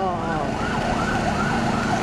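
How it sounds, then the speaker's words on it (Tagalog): An ambulance siren wails in rising and falling sweeps as it passes on a busy road near Araneta Avenue in the Philippines, loud and steady over traffic rumble, with a voice briefly heard. "Ay, ambulansya. Ambulansya."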